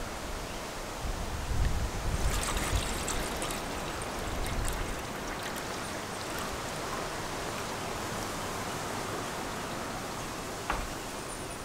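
Water pours from a 32-ounce Nalgene bottle into a mess kit lid that doubles as a fry pan, making a close, steady splashing rush that is louder in the first few seconds and then settles into a continuous flow.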